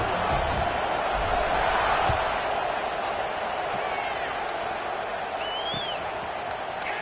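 Football stadium crowd at a Florida State vs LSU game, a steady roar of cheering and noise filling the whole clip during a kickoff, with a faint whistle-like tone rising above the crowd.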